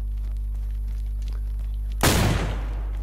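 Gunfire in the video game DayZ, a single sudden loud shot or burst near the end after a quiet stretch of steady low hum.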